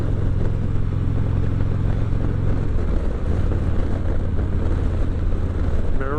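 Steady low engine drone from a 2019 Harley-Davidson Ultra Classic motorcycle cruising on a two-lane road at about 55 mph, continuous and fairly loud with wind rush mixed in and no talking.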